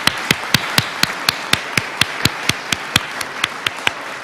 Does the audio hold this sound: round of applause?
yes